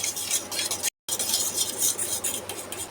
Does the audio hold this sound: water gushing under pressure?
no